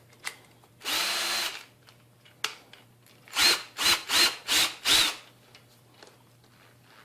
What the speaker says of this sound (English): I'm going to use the bit that came with it as far as driving in the screws